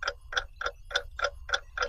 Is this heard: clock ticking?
yes